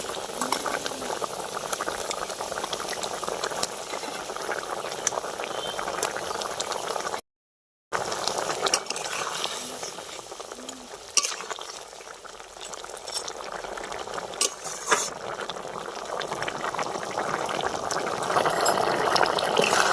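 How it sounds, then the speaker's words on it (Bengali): Vegetable fish curry gravy boiling in a pot, dense steady bubbling and gurgling at close range with a brief silent gap partway through, no talking. "ঝোলটা ফুটে উঠেছে এবার মাছগুলো দিয়ে দেবো"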